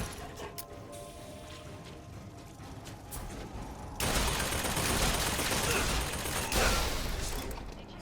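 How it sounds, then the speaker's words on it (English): Rapture turrets in Bioshock Infinite Burial at Sea open fire halfway through, a loud sustained clatter of automatic shots that follows a quieter stretch of mechanical ambience and keeps going to the end. "So these are the Rapture turrets. They will basically shoot anyone."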